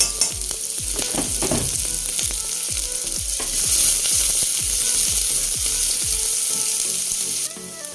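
Onion frying in overheated hot oil, a loud continuous sizzle with crackling bursts that holds steady for several seconds and cuts down slightly near the end, with no talking.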